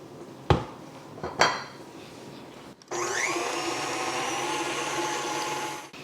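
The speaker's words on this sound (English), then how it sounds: "I'm going to scrape the bowl and then I'm going to mix them again" A bowl is scraped with a couple of sharp clinks of utensil on its side, followed by a steady electric mixer whirring as the mixture is blended again.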